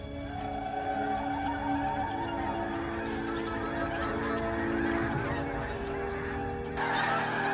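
A flock of geese honking together, a steady chorus of overlapping calls close by and continuous throughout, with no voices.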